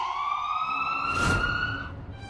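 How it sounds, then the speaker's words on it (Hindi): An ambulance siren with a steady tonal wail and a whoosh of passing traffic halfway through, then fading out. "एम्बुलेंस की आवाज क्यों आई?"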